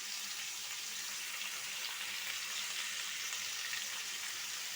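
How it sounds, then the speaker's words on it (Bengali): Paneer frying lightly in a pan for chilli paneer, a steady even sizzle throughout at moderate loudness, with no talk. "এবার আমি এটা হালকা করে ভেজে নেব"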